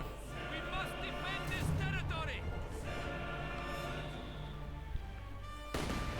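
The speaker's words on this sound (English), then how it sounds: "Okay, mortars firing as well here." Mortars fire in a Company of Heroes 2 one-versus-one match: a few dull distant thumps of artillery and battle noise sit under steady caster commentary.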